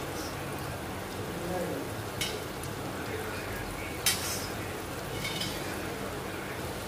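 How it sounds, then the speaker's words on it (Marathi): Mutton pieces fry in oil in a pan for a dhaba-style mutton curry. A steady, moderately loud sizzle runs throughout, with a couple of brief sharp clinks near the middle. "आणि यामध्ये आता पीस टाकत आहे मटणाचे। हे पण यात 5 ते 6 मिनिटं तळून घ्यायचे"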